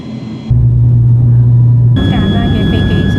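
Propeller airplane in flight on a short regional hop to Vanuatu, heard as a constant droning cabin hum with steady tonal whines that shift in character partway through.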